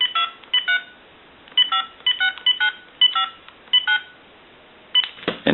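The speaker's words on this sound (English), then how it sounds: "We'll use another telephone to dial my number." A number is dialed on a touch-tone telephone to ring a payphone, a quick series of short beeps in uneven bursts with brief pauses between groups.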